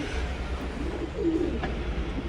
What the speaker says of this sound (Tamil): அப்புறம் பார்த்தீங்கன்னா இங்கே ஒரு புறா இருக்குது.